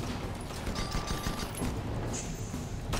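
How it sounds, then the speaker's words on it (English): Gunshots in an airship combat video game sound as a dense, continuous crackle of rapid fire within a busy, loud game mix, with a few brief whines and tones. "what are these shots coming at us from below?"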